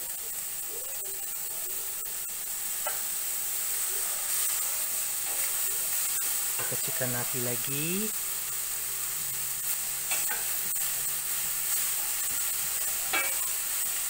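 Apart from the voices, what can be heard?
broccoli and chicken stir-frying in a pan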